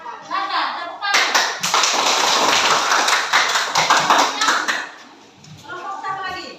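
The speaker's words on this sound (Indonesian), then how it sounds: "Terima kasih buat kelompok Nata, tepuk tangan." Applause breaks out for a group after a presentation: a dense burst of many hands clapping lasting several seconds, with voices speaking just before and after it.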